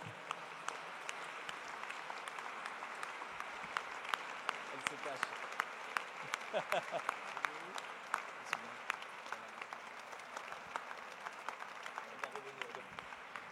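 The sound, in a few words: audience applause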